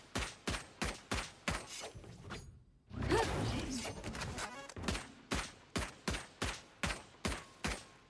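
Video game gunfire comes as a steady run of sharp, evenly spaced shots, about two per second. A brief noisy spray of impacts interrupts them in the middle before the rhythmic shots resume, moderately close, with no talk.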